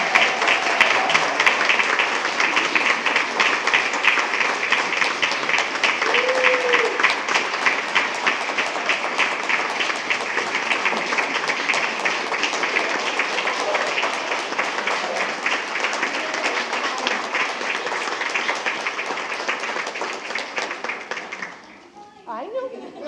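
A school board meeting audience claps for an honoree, a long, steady round of applause from a roomful of people, with children among them, that fades out near the end as a voice begins.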